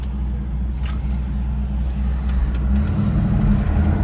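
A 1961 Chevrolet Impala with a three-speed column shift driving in second gear, a steady low engine drone and road rumble that rises slightly in pitch as it pulls, heard from inside the car.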